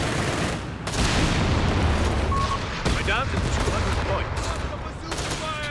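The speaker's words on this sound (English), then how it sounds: "New Panzer IV, but interrupted by the bazookas." Bazooka fire against a Panzer IV in Company of Heroes 3 pops out in several sharp blasts spread over a dense, continuous battlefield rumble, with a voice speaking over the fighting.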